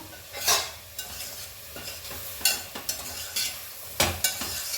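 Fresh green peas fry in a pan for a vegetable soup and are stirred with a utensil, giving a steady close sizzle broken by scraping strokes and a few sharp clinks against the pan.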